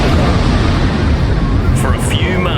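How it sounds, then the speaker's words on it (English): A ship's powder magazine blows up in a sea battle of the Nelson era, a huge explosion heard as a loud, continuous, heavy roaring rumble that fills the whole moment without letting up. "The explosion was huge."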